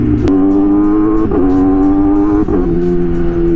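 Yamaha R6 motorcycle engine holding a loud, steady high-revving drone, with quick autoblipper gear changes: a sharp blip near the start and two brief dips in pitch as it shifts, running close and continuous with no talk.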